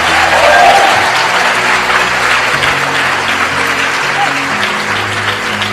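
An audience at a motivational talk gives itself a sustained round of applause, loud and dense throughout, with a few voices calling out over the clapping.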